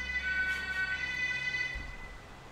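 An ambulance siren holds a steady high wail, fairly close and continuous over a low rumble, with no talk.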